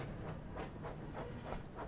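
A train rolling along in the video game Thomas & Friends, with faint rhythmic clickety-clack beats over a low rumbling hiss, brief and quiet with no talk.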